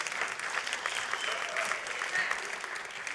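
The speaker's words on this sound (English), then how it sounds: "The applause is for the video makers here at our right." Audience applause for the makers of a short film at a cultural education policy conference, a steady dense wash of clapping held evenly for about three seconds, with faint voices underneath.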